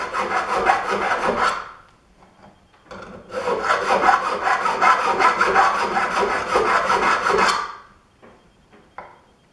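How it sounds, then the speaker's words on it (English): Close-up rasping of a file on a metal ring comes in two long bursts of quick back-and-forth strokes separated by a short pause, then a few faint scrapes, with no talking. "just by filing the ring so that it's circular again"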